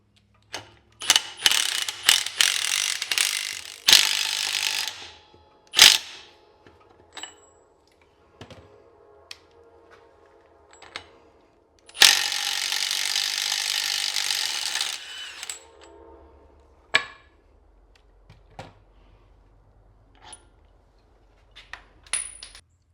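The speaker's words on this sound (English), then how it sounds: "I'm going to use this yoke to pull this bearing onto the pinion shaft." A hand ratchet tightens a pinion nut on a K10 4x4 rear end, drawing the bearing onto the pinion shaft with the yoke: bursts of rapid clicking, then pauses and sharp metallic clanks, close and loud.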